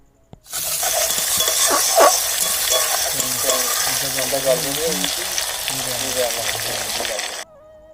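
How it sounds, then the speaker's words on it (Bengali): Prawns with salt and turmeric fry in hot oil, a loud, continuous sizzle that starts abruptly and runs for several seconds with occasional stirring clinks, then cuts off. "তেলের মধ্যে দিয়ে মাছটাকে ভেজে নিচ্ছে"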